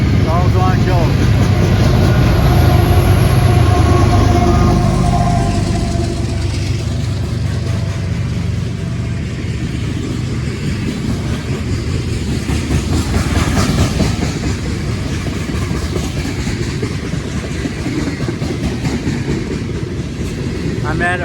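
A freight train of empty gondola cars with two mid-train engines passes close by in Aguascalientes, Mexico, a loud steady rumble with rhythmic clickety-clack of wheels lasting throughout, engine noise strongest early on.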